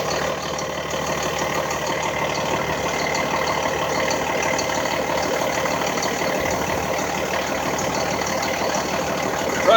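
Propane delivery truck engine running at idle, a steady mid-low diesel drone with light knocking texture throughout and a small bump at the end, no talking.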